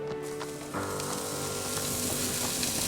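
Chuck roast sizzles loudly as it is laid down on a hot cooking surface beside potatoes, its steady frying hiss jumping up when the meat goes down and then running on, close and continuous.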